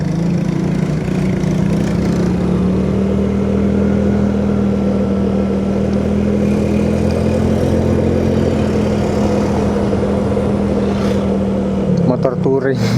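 Yamaha Mio J motorcycle engine while touring on a road, a loud steady drone with constant hum and wind rush throughout, easing off near the end.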